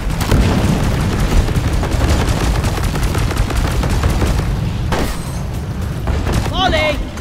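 Rapid gunfire and booming blasts from Deep Rock Galactic rattle almost nonstop, loud and close, with bursts of automatic fire and shouted voices over the top.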